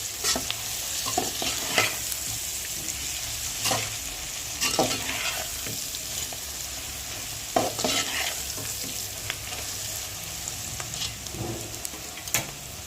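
A spatula stirs and scrapes through poha masala roasting with turmeric and salt in a hot pan, close steady sizzling broken by repeated scraping strokes, with no voices.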